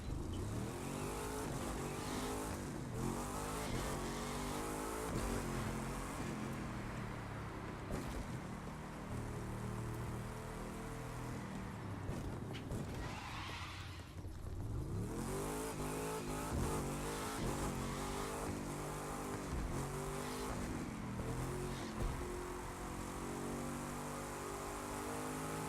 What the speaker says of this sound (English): Oh, it's like way easier with the dragster.